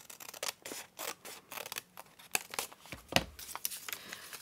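Scissors snip through paper to cut a triangle for a junk journal page, giving quiet, close, irregular crisp cuts with some light paper crinkling, with no talking.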